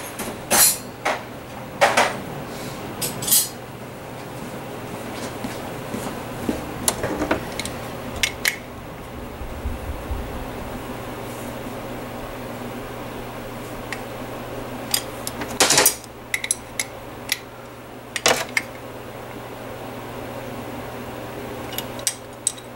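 Metal tools clank and clink while someone rummages for a wrench, scattered sharp knocks and rattles spaced irregularly over a low steady hum.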